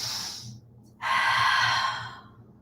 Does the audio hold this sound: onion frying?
no